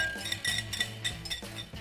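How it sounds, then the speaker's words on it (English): A metal whisk clinks against a bowl while vinaigrette is mixed into a broccoli slaw of carrots and broccoli, giving a string of light, close taps and scrapes at an uneven rhythm. "You can use your whisk though to make sure that you get all of the good stuff right in that bowl"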